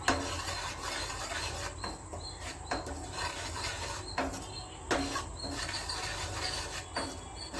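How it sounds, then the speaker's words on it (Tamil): Prawns are mixed with masala in a bowl, giving a soft wet squelching and rubbing sound. Light clicks and scrapes recur steadily throughout at close range. "இப்போ இதை நல்லா மிக்ஸ் பண்ணிக்கிங்க."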